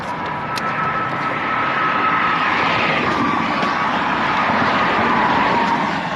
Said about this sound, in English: these cars are zooming down this hill, man